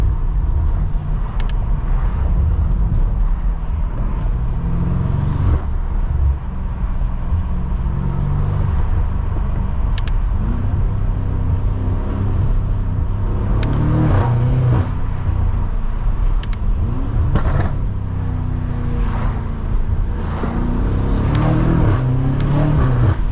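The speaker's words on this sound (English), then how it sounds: "Oh my god, those turbo spools." A 700hp BMW F90 M5 Competition pulls hard from inside the cabin, a steady loud engine drone with turbo spool and rising pitch sweeps as it accelerates, plus occasional short clicks.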